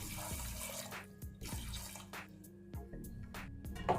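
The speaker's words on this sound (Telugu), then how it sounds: "కుక్కర్లో వేసుకొని ఈ శనగలు మునిగేంతవరకు నీళ్ళు వేసుకోవాలి." Water runs and splashes into a pressure cooker holding chickpeas, a quiet continuous pour with small clinks and drips, close by and with no talking.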